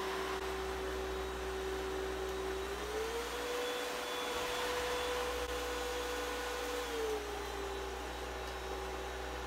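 Hoover Discovery DS22G vacuum cleaner running on turbo, a steady close whirring drone with a constant motor whine whose pitch rises slightly midway and drops back near the end, alone without talk.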